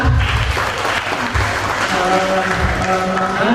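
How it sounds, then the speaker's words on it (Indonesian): Steady applause fills a hall during a socialization event on preventing violence against women, sustained and fairly loud throughout with dense, even clapping and no talking over it. "Kita beri aplaus Bu Enda."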